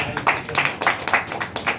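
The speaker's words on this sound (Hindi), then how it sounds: "तो अपने अपने बुलाएं तो एक बार ताली लगा लीजिए" Audience clapping at a motivational business gathering, a short burst of scattered hand claps with uneven rhythm, moderately loud and close, with no talk over it.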